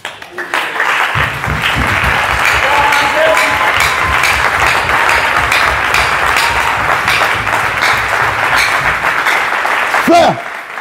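A church congregation at a seminar breaks into loud, sustained applause lasting about nine seconds, dense clapping with crowd voices mixed in before it fades.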